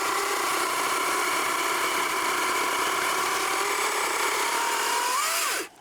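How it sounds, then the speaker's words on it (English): A Wild Badger 12-inch battery chainsaw motor whines loud and close at high speed, holding a steady electric pitch that shifts slightly as it revs, then cuts off abruptly at the end. "Listen to that motor kick up and down."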